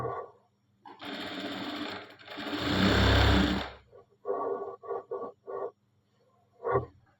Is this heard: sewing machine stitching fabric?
yes